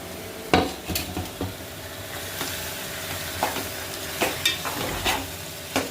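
Chicken pieces fry in a pan with a constant hiss and crackle. A utensil repeatedly stirs and knocks against the metal, giving clear clatters over the sizzle. Nobody talks.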